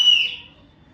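A toy whistle gives a single short, shrill tone that fades quickly, loud and close.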